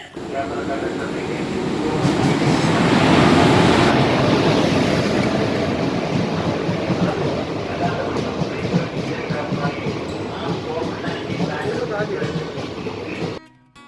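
A train rumbles at a railway station with a steady roar and rattling wheels that swell and then hold, loud and close, before cutting off abruptly.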